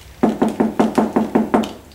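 Seven quick, evenly spaced knocks ring out on a car window at night outside a club, sharp, close and loud, with nothing else heard.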